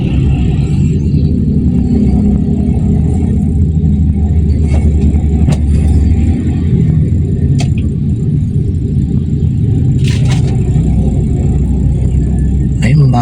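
A Toyota Corolla 2E engine idles steadily after a cold start, a continuous low rumble filling the whole stretch with a few brief clicks above it; someone talks over the running engine throughout.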